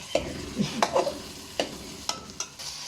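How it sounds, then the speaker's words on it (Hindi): Minced meat cooked with whole spices sizzles steadily in a hot pan while a spoon stirs it, giving repeated scraping clicks and knocks against the metal, close and clear with no talk. "ये देखें, ये कीमा और मसाले मैंने भून लिए हैं।"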